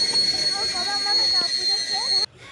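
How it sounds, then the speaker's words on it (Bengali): A steady loud hiss and hum of a train at a platform, with a bright whine that cuts off abruptly near the end. "তো আমাদের ট্রেন এখন চলে এসছে"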